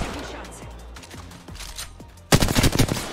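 Automatic weapon fire in an Apex Legends fight in Skull Town, with scattered shots and game sounds first and then a loud rapid burst near the end.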